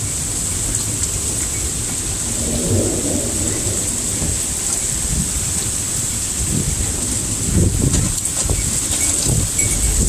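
Heavy pouring rain hisses steadily through a storm, with low rumbles of thunder rolling beneath it, constant and close with no voices.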